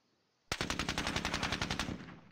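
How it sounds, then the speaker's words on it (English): A machine gun unit fires in the Squad Battles war game, a sudden rapid burst of about a dozen sharp, evenly spaced shots, loud and close, with no talk over it. "We have a machine gun unit here."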